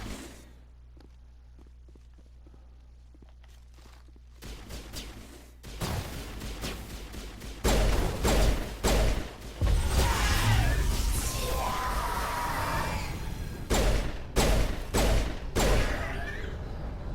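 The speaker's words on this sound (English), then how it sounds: "this is a powerful little pistol" Pistol gunfire in the video game Mass Effect, a run of loud sharp shots in rapid bursts, some doubled, over rumbling combat noise and shouts.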